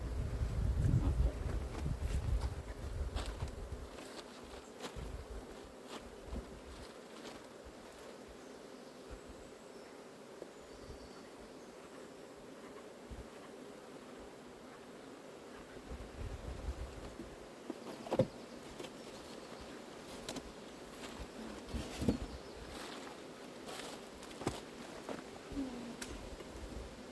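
Honeybees hum around an open beehive with a laying queen, a soft, steady drone broken by occasional close passes and bursts of wind noise on the microphone.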